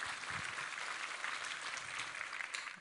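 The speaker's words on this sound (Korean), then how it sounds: "우리 하나님께 감사와 영광의 박수를 올려드리겠습니다." Church congregation applauding, a steady distant wash of many hands clapping at low level with no speech over it.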